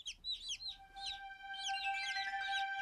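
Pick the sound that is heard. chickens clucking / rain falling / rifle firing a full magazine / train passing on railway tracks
chickens clucking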